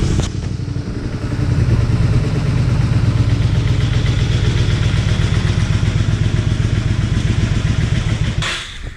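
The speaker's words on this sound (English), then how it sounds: "Now I've brought the bike up to temperature." A warmed-up Honda Spada motorcycle engine runs steadily up close with a loud, rapid, even thrum and mechanical clatter, holding a constant idle for several seconds before it cuts out at the end.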